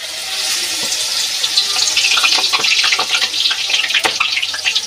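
Vegetable pakoras of gram-flour-battered greens fry in hot oil, giving a close, continuous bubbling sizzle and hiss for the whole stretch.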